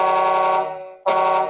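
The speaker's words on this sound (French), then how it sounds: "J'ai le klaxon." Volvo FH16 6x4 truck horn sounding in two loud, steady blasts, the first held about a second and fading, a brief gap, then a second blast starting abruptly and holding strong, a rich multi-tone honk with no talking.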